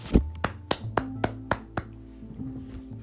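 A short run of about eight hand claps, sharp and fairly close, evenly spaced at first and then tapering off, heard alone without speech.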